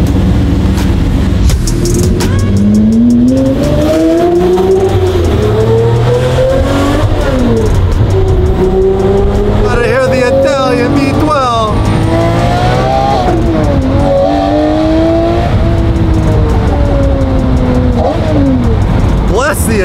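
A Lamborghini Murcielago V12 supercar accelerates hard with loud, rising revs and sharp gear-change pitch drops, repeated surges close by, joined by other passing engine roars, with voices underneath.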